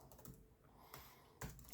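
Typing on a Lenovo ThinkPad T480 laptop keyboard, a few soft close-up key clicks in short bursts, quiet and isolated with no talking.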